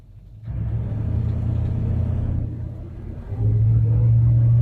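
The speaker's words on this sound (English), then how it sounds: "I can actually kind of brake boost it a little bit" A twin-turbo truck engine brake boosting on a street at night, starting with a low idle before the revs rise into a loud, sustained rumble, dipping briefly, then surging again into a heavier, deeper roar.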